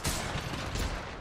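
Gunfire bursts in the battle royale shooter Apex Legends, a dense, loud rattle of rapid shots filling the whole short moment with no pause.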